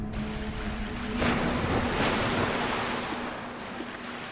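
A mimic chest in Dark Souls 2 spews water with a broad, rushing gush that surges in after a quieter start, then keeps pouring steadily.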